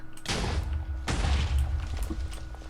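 TNT detonates in a competitive block-building game match, giving two heavy booming blasts about a second apart, each followed by rumbling debris, close and loud.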